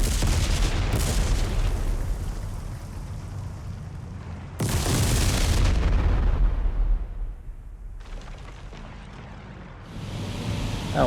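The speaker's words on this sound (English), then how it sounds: "And drop, drop, drop. Four bombs." Bombs exploding on the ground in the WWII flight sim IL-2 Sturmovik, several heavy booms with rumbling tails, one especially loud blast midway, over a constant aircraft engine drone.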